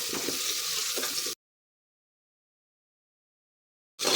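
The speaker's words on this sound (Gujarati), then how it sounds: "તો હવે આપણે અહીંયા બધું મિક્સ કરી લઈશું અને બધું જ આપણે સરસ રીતે અહીંયા થોડું સાતળી લઈશું।" Cauliflower and garlic sauté in a pan for pav bhaji, making a brief close sizzle that cuts abruptly to silence before returning for a moment at the end.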